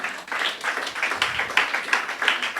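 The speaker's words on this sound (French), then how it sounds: "On peut applaudir à la gloire de Dieu, oui." A church congregation claps during a French-language worship service, producing a moderate, rhythmic burst of hand claps in loose pulses, some sharper strikes standing out near the end.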